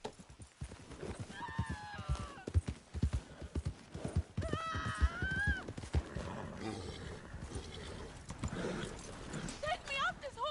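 Horse hooves clip-clop in Red Dead Redemption 2 under steady talk, with the horse whinnying partway through and steps thudding close and irregular throughout.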